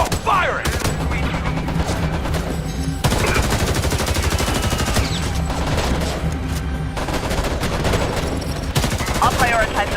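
Dense, loud gunfire in Homefront: The Revolution, sustained machine-gun bursts and rapid shots running throughout, with shouted voices mixed in.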